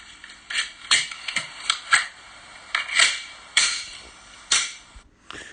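A pistol reload at a firearms training session, a string of sharp metallic clicks and clacks from the slide and magazine, close and crisp with short pauses between them.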